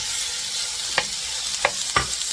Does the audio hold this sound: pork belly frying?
yes